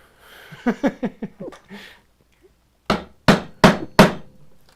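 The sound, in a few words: tapping a chisel to cut a wooden dovetail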